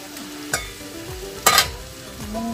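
Sautéed mung beans for ginisang monggo are stirred in a pan, with a few scraping clatters of a utensil over a steady sizzle, close by and without talk.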